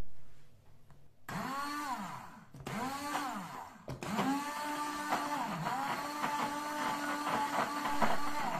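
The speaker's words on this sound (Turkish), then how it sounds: "Şimdi blenderdan geçireceğim." A blender purées cooked strawberry sauce in bursts, its motor whining up and down with stops and restarts, fairly close and steady, with no talking over it.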